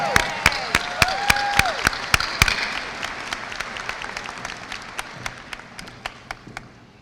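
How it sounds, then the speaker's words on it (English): Applause at a 2022 high school graduation ceremony: a few loud, sharp claps close by ring out over a broader crowd clapping that swells briefly, then thins out and fades, leaving scattered claps at the end. "Let's give them a big round of applause."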